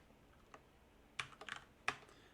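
Computer keyboard typing, a few soft isolated key taps followed by two short bursts of clicks, quiet and close with no talking.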